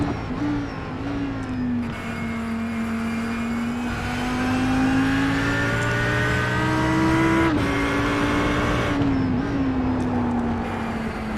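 Race car engines at Watkins Glen in a sim racing game roar steadily and loudly, the whine rising and falling through gear changes and brief lifts as two cars battle closely.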